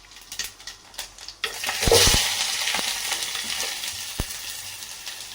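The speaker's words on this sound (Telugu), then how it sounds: "అన్నీ వేసి బాగా నూనెలోనే అన్నీ ఫ్రై చేయాలి" Mustard seeds and cumin sizzle in hot oil for an okra curry, a loud burst of frying hiss with scattered sharp pops, starting after a second of quieter kitchen clatter and holding steady to the end.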